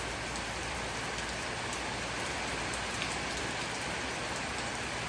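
Heavy rain pours down in a dense, unbroken hiss, loud and constant throughout, with no voices.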